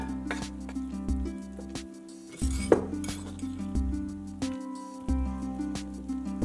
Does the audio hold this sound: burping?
no